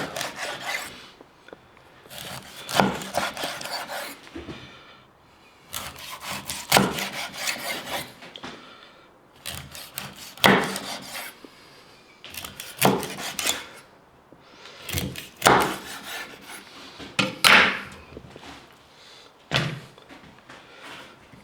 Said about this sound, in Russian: Нарезаю на порционные куски,